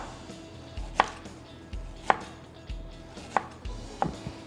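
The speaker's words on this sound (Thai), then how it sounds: "เห็นไหมครับผมหั่นเฉียงนะครับ" Four sharp knife chops slicing young ginger diagonally on a cutting board, spaced about a second apart, close and distinct over a faint background hum.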